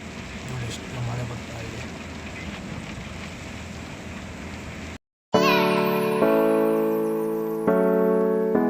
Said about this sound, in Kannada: ಎಷ್ಟು ಮಳೆ ಬರ್ತಾ ಇದೆ